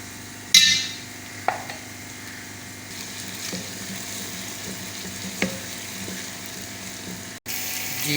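Onions browning with ginger garlic paste in a pan for keema matar, a low steady sizzle with a few scraping stirs and clinks of a spoon, close and fairly quiet, no talking.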